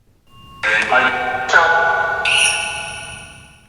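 During a ghost hunt, a small bell rings out in a quiet room, three bright metallic strikes in quick succession whose tones overlap and slowly ring down.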